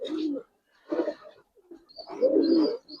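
Giribaj pigeons cooing in three separate bursts, each a low throaty warble, close and clear, with brief quiet gaps between them.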